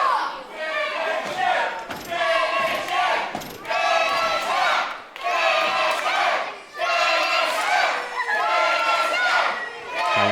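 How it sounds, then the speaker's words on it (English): A wrestling crowd at a live show in South Woodham Ferrers chants in loud rhythmic bursts, about five repeated two-beat calls with brief gaps, filling the hall up close. "They're chanting finish him"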